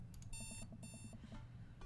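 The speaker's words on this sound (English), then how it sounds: "I jolt awake to the sound of my alarm." Alarm clock ringing in the Dream Daddy video game: two bursts of a bright, repeating electronic beep pattern over a low background hum, then a fainter tone near the end.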